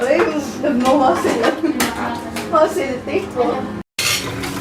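Lots of dishes washed by hand at home, with plates, pots and cutlery clinking and clattering close by in irregular bursts while people chat over the sounds.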